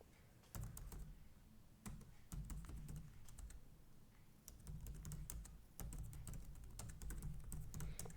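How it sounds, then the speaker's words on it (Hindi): Steady typing on a computer keyboard while entering a business name in a Google search, with clusters of key clicks in quick bursts separated by brief pauses, close and clear with no talking. "मैं बिजनेस का नाम टाइप करता हूँ"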